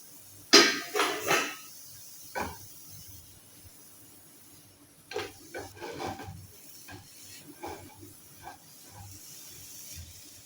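Spice and vegetable mix stirred in a pan with turmeric, coriander powder and chaat masala, giving a few scraping and clinking knocks of a spoon against metal, scattered and fairly quiet over a faint hiss.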